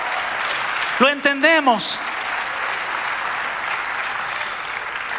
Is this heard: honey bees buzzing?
no